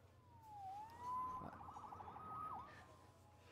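A faint, distant siren wails with sliding pitch sweeps, rising and dipping over low background rumble.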